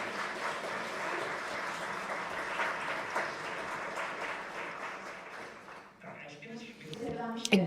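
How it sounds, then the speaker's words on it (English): An audience at a human rights conference applauds the evening's panelists, sustained clapping filling the hall for several seconds before a speaker begins talking near the end. "Please, a big round of applause."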